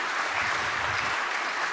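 Steady applause from the audience at a hospital pharmacists' conference session, a continuous wash of many hands clapping at even loudness with no talk over it.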